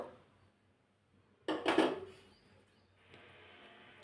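Moong dal poured into a bowl while making instant moong dal wheat dosa, a brief grainy rattling burst of lentils hitting the bowl, fairly close, then settling into quiet.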